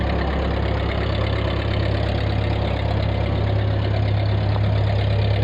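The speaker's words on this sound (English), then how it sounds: "Beautiful little tractor." A 1948 Ford 8N tractor engine idling steadily up close, a continuous low, even rumble with a faint knocking texture and no voices.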